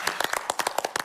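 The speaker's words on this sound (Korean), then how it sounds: "다 고생했다고 또 한번 박수 치시죠" A small group claps for candidates at the close of a televised 2022 South Korean presidential debate, about a dozen quick uneven handclaps in a brief, close burst.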